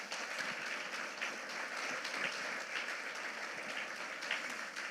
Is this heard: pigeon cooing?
no